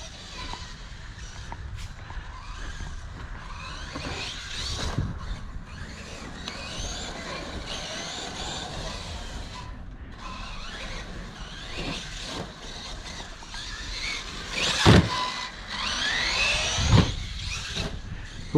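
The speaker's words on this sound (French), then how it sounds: "un petit tour avec le DB8 sur le circuit confiné, donc full origine" A stock Team Associated DB8 RC buggy runs laps on an enclosed track, its motor giving a continuous whirring drone that rises and falls, with a few sharp knocks and bumps toward the end.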